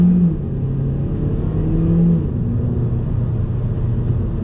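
A Hyundai Elantra Sport with a 1.6 litre turbo engine pulls away hard in sport mode, its steady engine note rising in pitch as it accelerates, heard from inside the car with no talking.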